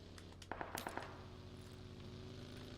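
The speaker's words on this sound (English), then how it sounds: "Yeah, there's definitely some gunfire going on that way." Gunfire in PUBG on Xbox One: a short, distant burst of rapid shots rattling over a constant low hum, then fading back into the background drone.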